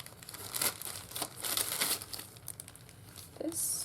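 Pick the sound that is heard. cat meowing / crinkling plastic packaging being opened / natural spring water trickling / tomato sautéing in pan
crinkling plastic packaging being opened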